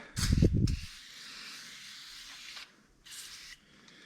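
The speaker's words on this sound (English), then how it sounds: "we're just gonna spray some of this on there" A few sharp hissing bursts from a spray bottle of Super Clean cleaner onto a 2006 Suzuki QuadSport LTZ 400 ATV, the first loud and close, followed by quieter sprays and a low ambient hum, with no talking.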